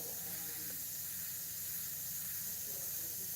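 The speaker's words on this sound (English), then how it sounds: "Let me just spray it lighter." An Iwata airbrush sprays Createx paint in a steady, even hiss that holds for the whole stretch at moderate level, with no talking over it.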